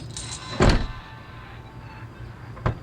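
A Honda CRX door with a freshly adjusted striker opens and closes with a solid thunk, followed by a softer latch click about two seconds later, close up and with no voices.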